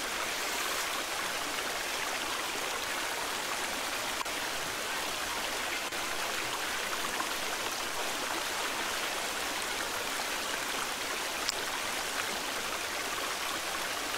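Steady broadband rush of a flowing stream in The Forest video game, a continuous even water sound with no breaks, moderately loud and alone throughout.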